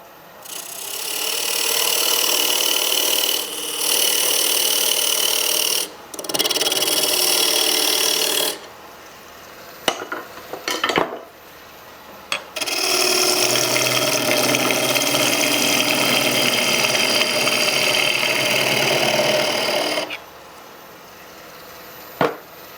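Wooden bowl blank spinning on a wood lathe as a tool cuts the tenon, giving loud, steady scraping and rasping bursts that stop and restart several times, with short quiet gaps between passes.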